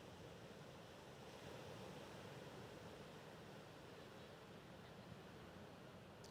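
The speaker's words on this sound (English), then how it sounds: "really try and listen to the sound of the sea. Picture the waves" Sea waves wash steadily onto a beach in a broad, continuous surf roar, even and unbroken with a slight breezy hiss and no voices.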